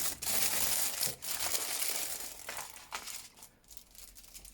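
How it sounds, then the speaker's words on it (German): A plastic bag from a diamond painting Advent box is torn open, giving loud crinkling and crackling rustles in uneven bursts close by that ease off into lighter handling sounds. "ich mache das erstmal eben kurz auf. Raschel, raschel."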